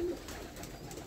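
A pigeon coos faintly in a loft among newly bought market pigeons, a single short low call over a quiet background.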